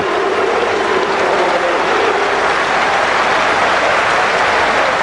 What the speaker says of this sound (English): Warm applause from his teammates